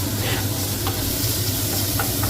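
Finely chopped carrots being sautéed and stirred in a pan for upma, a steady close sizzle under a constant broadband hiss with faint stirring scrapes.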